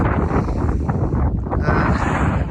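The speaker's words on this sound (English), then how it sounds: "the wind did get up as forecast" Strong, sustained wind gusts buffet an MSR tent on Dartmoor in October, a loud continuous rushing roar with flapping fabric and no pauses.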